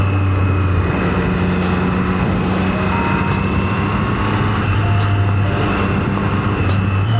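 A Triumph Street Triple 765 naked motorcycle's engine drones loudly and steadily at close range, a continuous unbroken roar with no voices over it.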